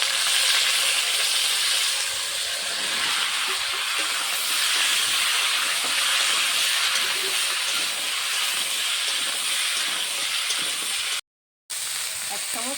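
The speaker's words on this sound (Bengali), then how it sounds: "এবার সব সবজি একসঙ্গে ভেজে নেবে" Mixed vegetables for Bengali shukto sizzle together in a hot pan, a steady close hiss of frying that runs almost unbroken, with a brief gap near the end.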